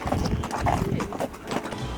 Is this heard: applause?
no